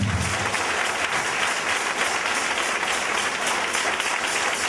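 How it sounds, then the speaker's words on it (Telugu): A church congregation claps hands together in worship, producing a steady, full wall of applause that holds at an even level for several seconds. "అందరు చప్పట్లు కొట్టి దేవుని నామములో"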